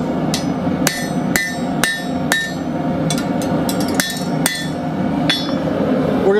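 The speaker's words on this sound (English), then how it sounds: "Straighten this up on the anvil." A hammer strikes metal on an anvil to straighten a dinner bell triangle, with about a dozen sharp, ringing blows in a steady, slightly uneven rhythm, close and loud.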